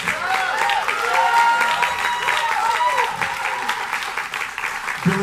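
Dense, sustained applause from an audience at a jazz trio concert, a steady wash of clapping throughout with faint cheering mixed in.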